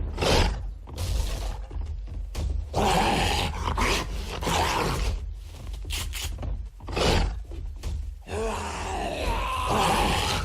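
Zombie dogs growling and snarling in the 7 Days To Die video game, a busy run of harsh growls, snarls and crashing hits that stays loud throughout with little pause, without any speech.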